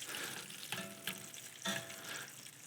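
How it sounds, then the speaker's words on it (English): Potatoes frying in a deep fryer, a soft steady bubbling sizzle with a few sharper crackles and pops, fairly quiet and without voices. "I'm going to put the rest of these potatoes into the fryer"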